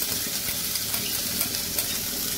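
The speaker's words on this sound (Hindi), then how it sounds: "अब हमने इसमें जो अपना ये मशरूम भुना हुआ था इसको ऐड करेंगे" Roasted mushrooms stirred into a pan of frying masala, a steady loud sizzle with light scraping from the stirring, close and without speech.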